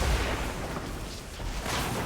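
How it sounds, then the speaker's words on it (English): A fiery lava burst spell from World of Warcraft, cast during a Razorfen Downs dungeon run, lands with a booming, rumbling blast that opens loud and settles into a dense, roaring wash of game effects. "Try to get one more lava burst in before he dies."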